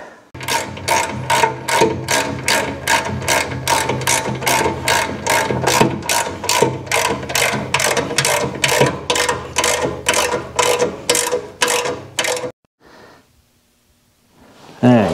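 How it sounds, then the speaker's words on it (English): Ratchet clicking steadily as it tightens gearbox bolts on a John Deere 1025R tractor's 47/54-inch parallel shaft gear drive snowblower conversion, a fast, even run of loud close clicks for about twelve seconds, then near silence. "Now that we got the gearbox all tightened up"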